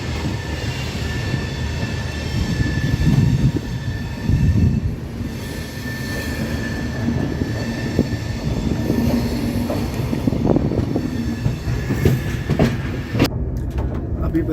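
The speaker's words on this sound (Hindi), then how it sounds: "The train is running 17 hours late." Karnataka Express train running on rails, a loud continuous rumble of wheels with rhythmic clatter and faint squeals, heard up close from inside the moving train.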